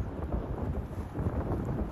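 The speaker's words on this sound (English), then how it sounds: "oh, the wind" Wind buffeting a microphone outdoors in cold snowy weather, a continuous low rumbling roar that fills the short clip with no other sounds.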